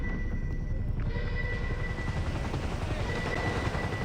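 A helicopter in GTA 5 Online gives a steady, loud rotor whir throughout, with faint bursts of distant gunfire mixed in.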